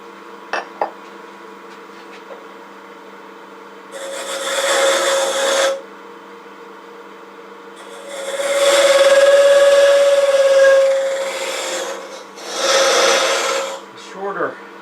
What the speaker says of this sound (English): This is a conventional scraper. Let me give it a couple of strokes across the top.